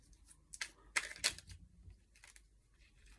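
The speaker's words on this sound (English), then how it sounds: "I'm just going to shuffle these now until either one pops out." Tarot cards being shuffled by hand: a few soft riffling and flicking bursts clustered in the middle, quiet and close, then fading to faint rustles.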